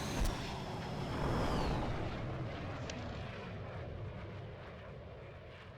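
The Mirage 2000 jet engine roars in the VTOL VR game, a loud broadband rush that swells early, with a rising whine at first and a short click, then settles into a steady, slightly dimmer drone.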